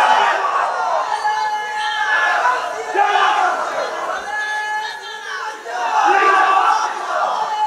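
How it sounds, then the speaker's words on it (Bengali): A large crowd at an Islamic sermon gathering shouts takbir in loud unison, the chant swelling and falling in repeated waves with a leader's voice mixed in. "একটা জোরে দেও তো তাকবীর"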